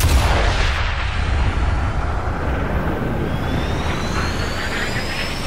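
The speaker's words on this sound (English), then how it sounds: "get your sniper rifle out and take a good long shot" A long-range sniper rifle shot in Sniper Elite 5, fired near a beach: a loud boomy report with a rolling echo and rumble that sustains for several seconds before slowly fading, no voices.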